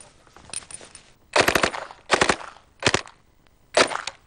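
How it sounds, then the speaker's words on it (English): A Tommy gun submachine gun fires four or five short, loud, rapid automatic bursts close by, separated by brief pauses. "This is the Tommy gun."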